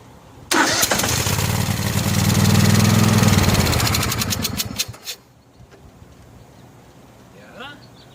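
Engine of a Craftsman 6500 garden tractor mower cranks and catches, running loudly with a steady hum for about four seconds before cutting out abruptly, followed by quiet and faint talk.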